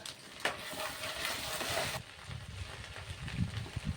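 Ginger-garlic paste and garam masala fry in a pan, a steady broadband sizzle with stirring scrapes, louder in the first two seconds and then settling to a lower hiss with light clatter.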